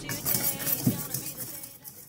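Batter ingredients for corn dogs get stirred in a bowl with a utensil, giving soft scraping and a few light clinks against the bowl across a couple of seconds, close and fairly quiet.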